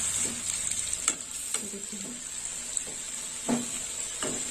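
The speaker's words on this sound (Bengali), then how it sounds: "এই দেখুন বন্ধুরা, গুঁড়ি কচুগুলো একদম লাল লাল ভাজা হয়ে গেছে" Small taro pieces fry in hot oil in a pan with a soft, steady sizzle, broken by several distinct scrapes and knocks of a spatula stirring them, close and with no talking.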